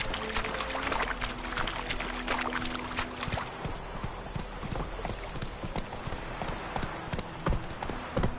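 Roach, Geralt's horse in The Witcher 3, gallops with a steady rapid clip-clop of hooves close by, over a constant outdoor ambience with a brief sustained tone early on, no talking.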